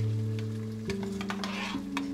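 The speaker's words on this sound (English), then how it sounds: "you know how tomato paste spits" Tomato paste spits and sizzles in hot oil with lamb for a Kashmiri aloo gosht curry. A steady droning hum fades as sharp crackles and pops come through close by, with no voices.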